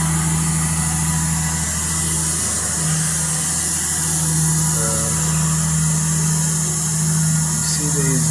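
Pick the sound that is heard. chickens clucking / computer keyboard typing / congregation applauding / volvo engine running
volvo engine running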